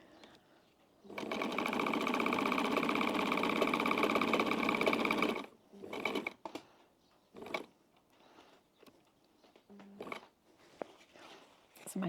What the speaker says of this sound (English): This is my very first sew on my little Pfaff